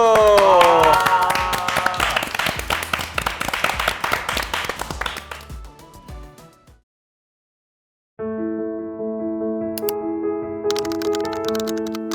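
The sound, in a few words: applause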